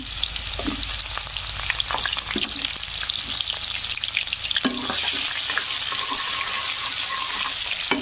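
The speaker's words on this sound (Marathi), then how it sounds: "नंतर टाकणार आहे कांदा. कांदा छान असा लालसर होऊ द्यायचा." Onion frying in oil with garlic, mustard seeds and cumin for a fenugreek leaf dish, a steady close sizzle with spatula scrapes and stirring clatter, no talking.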